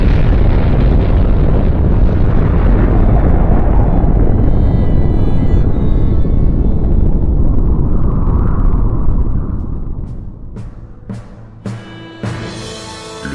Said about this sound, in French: l'engin, arrivé à 600 mètres au-dessus du sol, déclenche une incroyable explosion